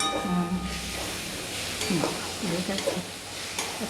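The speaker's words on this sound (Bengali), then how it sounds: "এটা ভালো মতো একটু কষাবো।" Chicken keema masala sautés in a pan for ghugni, a close bubbling sizzle with stirring scrapes, and a voice briefly murmurs at the start.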